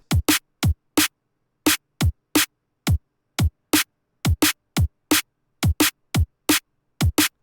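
Drum and bass drop pattern with three kicks followed by three snares: dry, punchy hits in quick pairs and short gaps, repeating evenly with nothing else playing.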